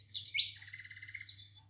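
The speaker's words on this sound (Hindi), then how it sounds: "अनेक प्रकार के घोंसले लगे हैं, जिसमें आप वीडियो में देख रहे हैं ढेर सारी चिड़ियाँ हमारे आंगन में इनका आना जाना होता है" Sparrows chirp in a home courtyard with nests and a bird feeder: a short, faint run of high, rapid tweets and trills sounding from a little distance.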